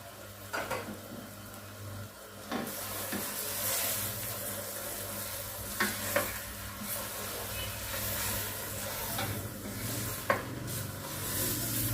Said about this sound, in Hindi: हम इसे 5 से 10 मिनट अच्छे से भूनेंगे, मिक्स करेंगे सारे मसालों को,